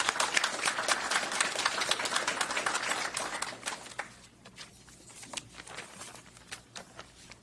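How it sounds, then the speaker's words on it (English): An audience at a Mr. and Mrs. PA Basketball ceremony gives a round of applause. Dense clapping fills the first few seconds, then thins into scattered claps and fades to a quiet room. "Let's give another great round of applause for Kirk Smallwood"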